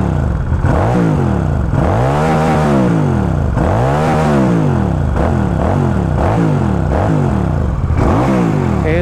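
A QJ SRV400S motorcycle engine is revved hard several times in a row, each rev rising sharply and falling back. The sound is loud and close with no talking.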